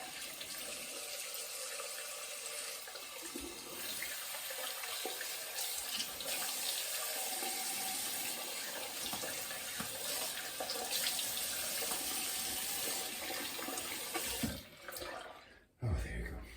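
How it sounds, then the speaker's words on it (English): A tap runs steadily into a sink while a straight razor is rinsed, a close, continuous splashing rush of water that cuts off near the end, with no talk over it. "Okay, I'm gonna rinse, give it some recovery."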